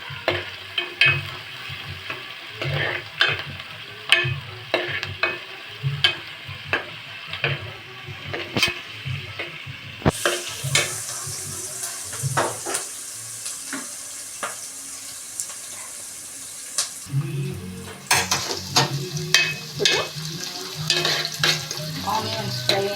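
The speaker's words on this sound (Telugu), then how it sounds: "ఆనియన్స్ తొందరగా వేగాలంటే దానిలో కొంచెం సాల్ట్ వేసి వేగనిస్తే తొందరగా ఫ్రై అవుతుంది." Chopped onions with a pinch of salt frying in oil for chicken biryani, a steady close sizzle broken by regular spoon scrapes and clinks against the pot, with a brief burst of brighter hiss partway through.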